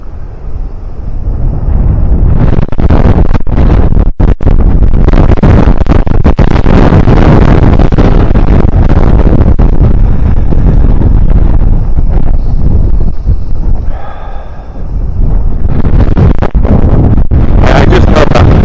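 Strong wind gusts sweep through an outdoor park, roaring and buffeting loudly against the microphone almost continuously, easing briefly before surging again.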